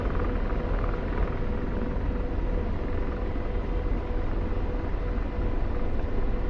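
Helicopter rotor and engine in the DCS flight simulator, a dense, steady low rumbling drone that holds level and unbroken throughout.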